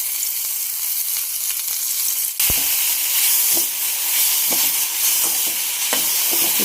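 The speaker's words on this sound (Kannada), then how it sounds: "ಸೊ ಈರುಳ್ಳಿನ ಸ್ವಲ್ಪ ಫ್ರೈ ಮಾಡ್ತೀನಿ ಡೀಪಾಗಿ." Chopped onions deep frying in a pan for egg omelette curry give a loud, continuous close sizzle, with a sharp knock partway through and a few light stirring scrapes, no voices.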